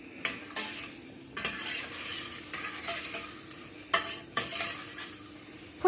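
A spoon stirs potato and pilchard curry in a cooking pot, making soft scraping and clinking strokes at an uneven rhythm over a faint sizzle, close by with no talking.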